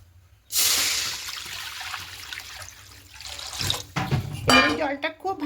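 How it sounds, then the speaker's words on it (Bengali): Water runs and splashes into an unwashed karahi from a tap, a broad rushing wash that starts abruptly and continues for several seconds, ending in a few clattering knocks of the pan. "এর মধ্যে জল বসিয়ে দেবো"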